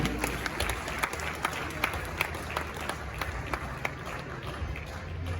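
Applause at a Ghanaian journalists' media awards ceremony welcoming the Acting Chief Justice of Ghana, a sustained hall-wide clapping with sharp individual claps poking out, moderately loud and steady for several seconds.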